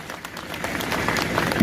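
A crowd at an outdoor protest sit-in applauds with dense, steady clapping that holds at a loud level and swells slightly toward the end, with no pauses.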